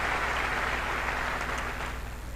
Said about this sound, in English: Abuad deserves a round of applause for that.